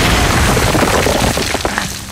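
An explosion in Uncharted 4: A Thief's End rumbles loudly, a dense booming burst with crackling debris, fading out toward the end.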